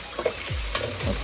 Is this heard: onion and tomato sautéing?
yes